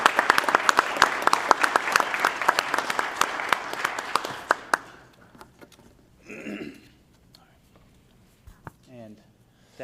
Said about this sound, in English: just a special round of applause